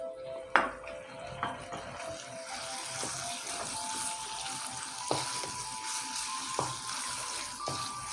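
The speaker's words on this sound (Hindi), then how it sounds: "इसको अच्छा सा भून लेंगे।" Chicken mince with chopped garlic frying in oil in a pan, a soft continuous sizzle broken by repeated clinks and scrapes of a utensil stirring, fairly quiet and close with no talking.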